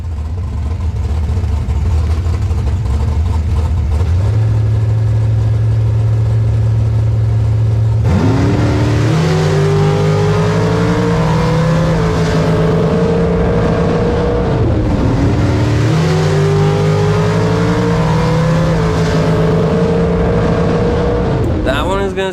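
A bracket-racing car idles loudly, then launches on a drag strip run, its engine revving hard through rising gear pulls with a shift around midway, close and loud throughout.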